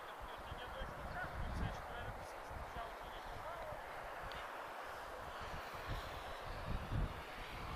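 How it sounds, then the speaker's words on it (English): An EasyJet Airbus A321neo arrives at Lisbon Airport with a steady, broad jet roar that holds at moderate distance throughout. "EasyJet Europe. She's arriving from Bilbao. A321neo for EasyJet."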